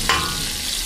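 Urad dal frying in about two tablespoons of oil, a steady close sizzle with a brief burst of crackle near the start and no voices, as chutney is made.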